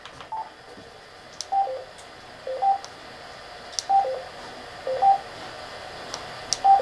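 A ham radio scanner steps through frequencies, giving short regular beeps and tones roughly once a second over a faint hiss, with no voices.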